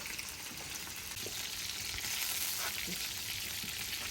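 Onion frying in a kazan alongside vegetables for fried quails, giving a steady, close sizzle with a broad hiss that holds throughout, plus a few soft stirring knocks underneath.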